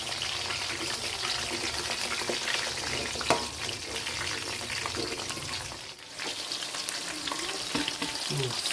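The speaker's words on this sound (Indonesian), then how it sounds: "Terongnya digoreng dulu lur." Eggplant fries in hot oil in a pan, with a steady loud sizzle and crackle throughout, broken by occasional scrapes and knocks as the pieces are stirred.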